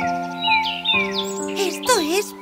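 Small birds chirp and tweet in a cartoon fairy-tale land of plants and flowers, bright repeated calls over a steady musical backdrop.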